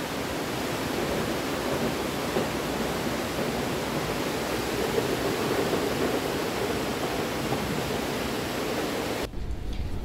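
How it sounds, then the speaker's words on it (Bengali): Loud, steady roar of the swollen Teesta river rushing near a bridge in North Sikkim in bad weather, a continuous broadband wash of turbulent water that cuts off abruptly near the end. "জল দেখো, বিভৎস জল তিস্তার।"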